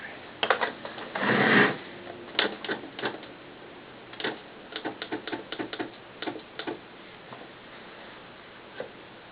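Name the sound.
sewing machine stitching a doll pants waistband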